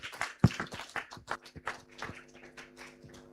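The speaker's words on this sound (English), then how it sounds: "let's give her and the team another round of applause" Scattered clapping from a graduation audience in a Nairobi hotel, a burst of sharp close claps with a loud one early on, thinning into irregular taps and faint talk.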